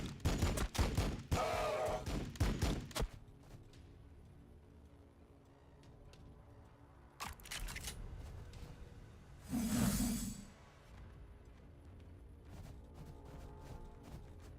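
Rapid bursts of gunfire crackle in Warhammer 40K Battlesector, dense volleys at first, then scattered single shots and a longer rattling burst midway, fairly faint overall.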